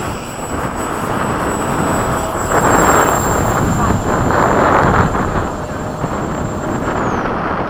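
An FMS 80mm Hawk RC jet plane flies a loop, its ducted-fan whine roaring steadily and swelling as it passes near, with a high tone sliding down at the end; people talk briefly over it.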